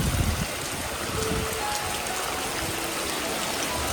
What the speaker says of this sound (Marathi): गावाकडचा पाऊस अनुभव घ्या जरा